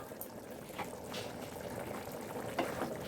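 Lemon pepper mint chicken curry bubbles in a pot, a soft, steady simmering burble with small pops and gurgles close by.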